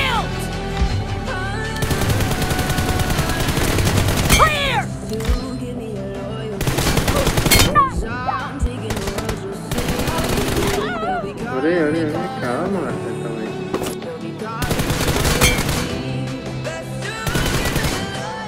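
Gunfire from a 1v1 team deathmatch video game comes in dense machine-gun bursts separated by short lulls, loud and close, with fainter in-game sounds between the volleys.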